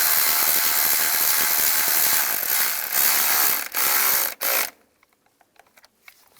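Ratchet snugging an ignition coil bolt on a 2002-2009 Chevrolet Trailblazer, a dense, loud clicking run that breaks into short bursts and then stops, leaving a few faint taps.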